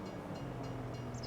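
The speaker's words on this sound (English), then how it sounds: "I about had my back end taken off by a train." A train rumbles past in Farming Simulator 25 with a steady low, close drone and faint rhythmic clatter, no voices over it.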